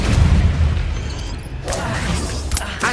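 Confringo fire spell blast in the Hogwarts Legacy video game, a loud low boom right at the start that rumbles and fades, with further bursts of game effects after.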